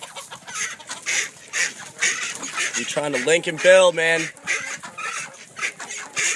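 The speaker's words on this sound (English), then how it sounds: "What's up, chickens?" A chicken clucks and squawks mid-clip amid a noisy coop of about 60 chickens, while someone talks over the sounds.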